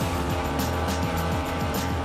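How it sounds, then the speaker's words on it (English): A racing airboat engine runs at a steady, loud drone with a slight misfire, the continuous roar broken by faint regular stutters as the boat rounds a hairpin on race day. "The engine does seem to have a slight miss to it"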